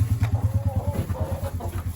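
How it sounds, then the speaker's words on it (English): Several chickens cluck close by in a quick, steady rhythm of low repeated clucks, with a higher call or two mixed in. "Morning, chickens."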